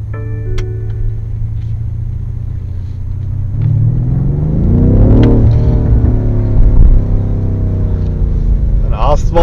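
A BMW M5 F90 engine rumbles low inside the cabin, then rises in pitch as it revs and accelerates, loud and close, with a clatter near the end.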